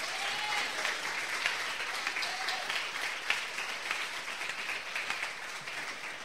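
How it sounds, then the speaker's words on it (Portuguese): A church congregation applauds during a worship service, producing a continuous wash of many hands clapping at moderate distance, steady for several seconds with no individual voices standing out. "aplauda o Senhor"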